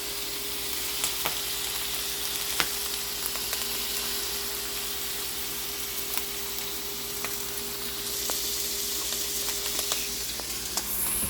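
Meat sears in a PC Deluxe multi cooker with a steady, close sizzle and broadband hiss that runs the whole time, broken by a few faint clicks and scrapes.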